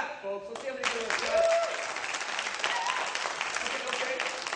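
A circus audience at a circus arts show breaks into scattered, moderately distant clapping that builds into a crowd applause wash, following a brief stretch of an announcer's amplified voice.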